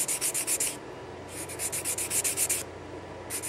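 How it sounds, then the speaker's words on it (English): A fine sanding stick rubs back and forth across a plastic model kit part, giving close, steady rasping strokes in rhythmic bursts with brief pauses between them and no talk. "I'm just going around taking a fine sanding stick and sanding all that off"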